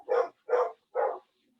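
Three loud, evenly spaced barks from dogs in a home, each short and full, ringing out alone with brief silent gaps between them.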